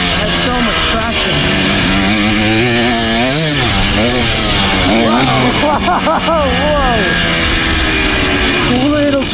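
A brand-new dirt bike engine revs and whines continuously as it rides on dirt for the first time, with the pitch rising and falling through throttle changes, close and loud, while voices talk over it.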